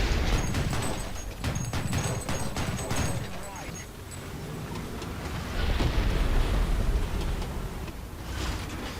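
Artillery strike explosions in War Thunder ground battles, a run of deep booms and crackling impacts rolling close and loud, with someone talking over them.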